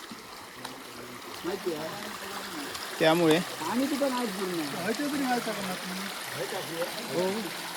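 Water rushes steadily from a dam into a dug channel as a continuous, fairly close flow, while someone talks over it throughout.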